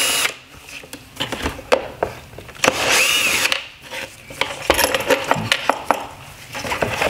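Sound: loosening Phillips head screws on a Nissan Rogue headlight

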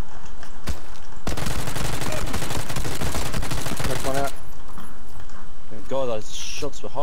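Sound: gunshots in video game PUBG

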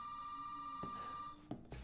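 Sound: telephone ringing in video game Resident Evil 7

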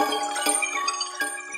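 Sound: bell ringing, Pavlov conditioning illustration

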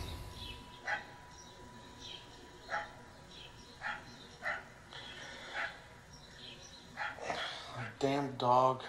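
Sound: dog barking in the video game Tender Loving Care

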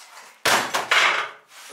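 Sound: sledgehammer thrown at a washing machine

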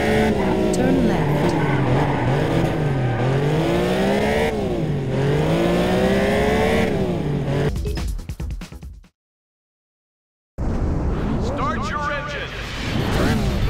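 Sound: race car engines in the video game Test Drive Unlimited

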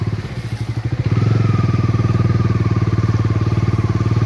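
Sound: motorcycle struggling through mud on a track

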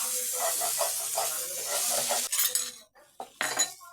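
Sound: sautéing potatoes with vegetables in a pan

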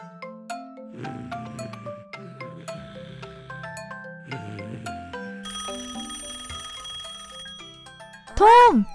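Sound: telephone ringing

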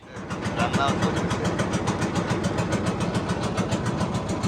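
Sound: trawler boat engine running

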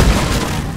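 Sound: resupply pod landing in Deep Rock Galactic video game

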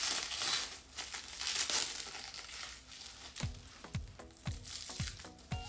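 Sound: crinkling plastic wrapping on honeycomb

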